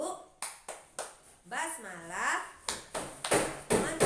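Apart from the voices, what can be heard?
children clapping hands in a wudu clapping game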